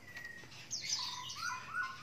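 A cucak jenggot bird gives a few clear, high whistled chirps and rising calls, fairly close but quiet over a soft outdoor background with no talk.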